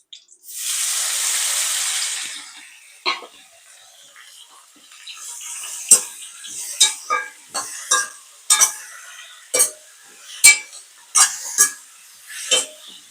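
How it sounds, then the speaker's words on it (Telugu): Cucumber pieces are stirred into fried tempering in a pan for cucumber chutney. A short burst of hiss gives way to a string of spaced, sharp metallic clinks and scrapes of a spoon against the pan. "ఈ విధంగా కలిపేసి మూత పెట్టి మంచిగా మగ్గుతుంది"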